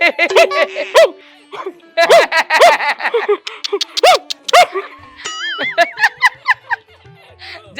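A person imitates a dog with a run of barking and yapping sounds, short and rhythmic, mixed with laughter and other voices chatting nearby.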